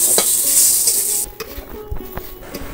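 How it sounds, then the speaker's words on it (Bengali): Pointed gourd (potol) frying in a pan, a steady loud sizzle at first that drops away, then scattered scraping stirs and taps of a utensil against the pan. "এরকম উল্টে পাল্টে আগে একটু চাপ দিয়ে ভালো করে আগে ভেজে নিতে হবে"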